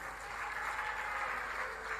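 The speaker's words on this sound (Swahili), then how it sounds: "mpigieni makofi" Steady applause from an audience at a political rally in Kenya, dense and continuous throughout, fairly loud with no pauses or voices standing out.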